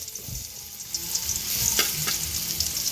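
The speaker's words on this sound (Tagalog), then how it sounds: "Magigisa na po tayo para sa ating ginataang" Garlic and onion sautéing in hot oil as the base for ginataang seafood with crab, a continuous close sizzle with light stirring knocks that swells slightly partway through.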